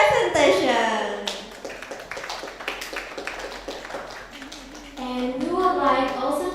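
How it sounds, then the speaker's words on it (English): Applause from a conference audience after a presentation, with a dense patter of claps filling the middle stretch while a voice speaks at the start and again at the end. "let's give her another round of applause for her excellent presentation"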